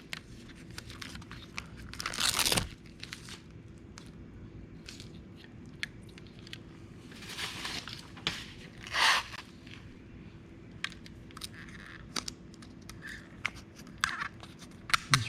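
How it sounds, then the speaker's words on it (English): Protective red-backed plastic film being peeled off stick-on LED fender and filler lights, heard as a few short crinkly tearing bursts with quieter fiddling between them, close up and with no talking. "let's peel the plastic off"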